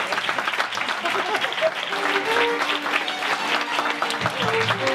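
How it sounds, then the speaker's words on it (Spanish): Steady audience applause fills a gathering, a warm continuous wash of many hands clapping at close range, with faint voices and a few brief tonal sounds threaded underneath. "Fuerte aplauso."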